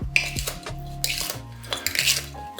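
A utensil clinks and scrapes against a bowl while strawberries and rhubarb are stirred together, several sharp close taps and clatters over about two and a half seconds with no voices.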